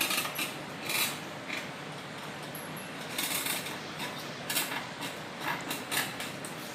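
Scissors cut through old sari fabric, giving repeated soft crisp snips and rustles in an irregular rhythm, close and fairly quiet.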